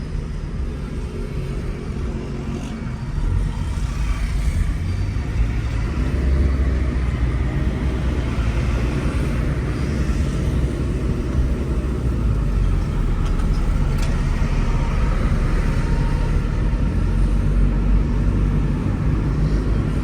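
A Toyota Indus Corolla converted to a 1500cc R1NZ engine with CVT transmission drives along the road, giving a continuous deep rumble and engine drone that grows slightly louder after the first few seconds, with no speech.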